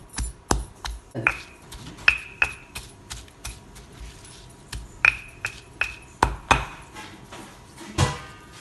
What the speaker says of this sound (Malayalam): നന്നായിട്ടൊന്ന് ചതച്ചെടുക്കാം ഒരുപാട് അരയാൻ പാടില്ല ഉള്ളി ഒന്ന് കൊത്തിനാക്കിയാൽ മതി